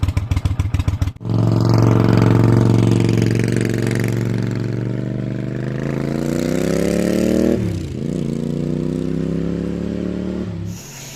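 A Honda GL500 cafe motorcycle, warmed up after six months of sitting, starts with a few rapid cranking bursts and settles into a loud, steady close idle that rises slightly as the choke comes off.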